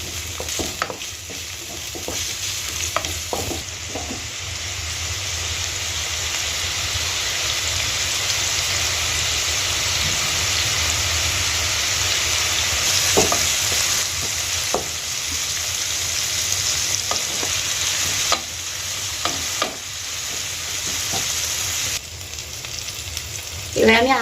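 Food stirred in a frying pan for a Bengali egg tarka, with a steady close sizzle of hot oil and scattered scraping clicks from the spoon throughout.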